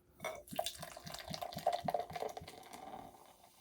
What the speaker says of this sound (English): We're going to pour it in. Let's pour it in on camera.